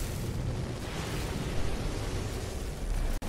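A deep, rumbling blast from a destroyed cannon on a pirate dreadnought in No Man's Sky rolls on for a few seconds, broad and noisy, ending in an abrupt cutoff.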